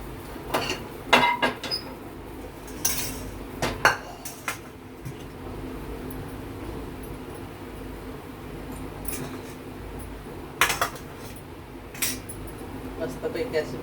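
Masala stuffing is spooned into bitter gourds, with sporadic close clinks and scrapes of a spoon against a metal dish, separated by quieter handling, with no voices.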